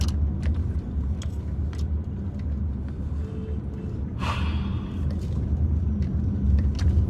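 A car creeping through congested Abidjan traffic, with a steady low engine and road rumble throughout and a brief brighter whoosh of a passing vehicle near the middle.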